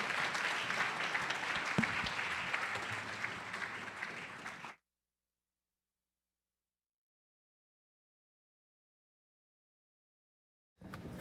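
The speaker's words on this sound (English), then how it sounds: "a round of applause for our panelists" Applause from the audience at an IoT and health expo as panelists come on stage: a full, even burst of clapping for several seconds that cuts off abruptly into silence, then resumes faintly at the very end.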